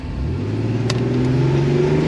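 A Porsche 964 with a four-speed gearbox accelerates hard on a lap, its engine note rising steadily as it revs up, loud and close throughout with no talk over it.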